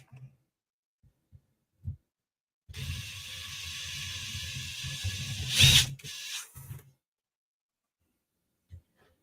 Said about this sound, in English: I'm going to drill down through the first set of holes